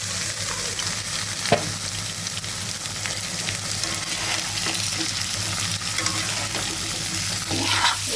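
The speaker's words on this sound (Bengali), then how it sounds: "পেঁয়াজটা লাল করে ভাজা হয়েছে, এখন সিম আর আলু দিয়ে দেবো" Flat beans and potatoes fry and get stirred in a pan with onions browned in oil, giving a constant loud sizzle with occasional scraping stirs and clinks.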